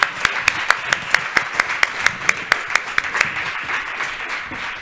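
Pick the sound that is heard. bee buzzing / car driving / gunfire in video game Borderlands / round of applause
round of applause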